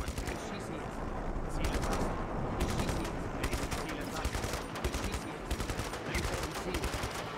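Gunfire in Just Cause 3, the video game, with repeated bursts of rapid shots over a dense, rumbling battle din that runs on without pause.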